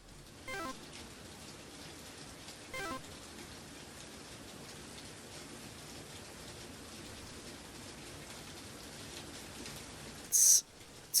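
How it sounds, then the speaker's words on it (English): Steady rain falls throughout, a continuous hiss of drops on a surface at a quiet, even level, broken by a few brief louder bumps and a sharp high burst near the end. "It's rainy."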